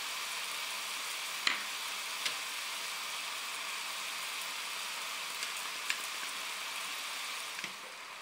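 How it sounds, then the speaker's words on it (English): Vegetables and cabbage leaves sizzle steadily as they stir-fry in a pan for a Japanese yakisoba dish, a soft continuous crackle with a few faint clicks and taps, no voices. "again fry for another couple of minutes"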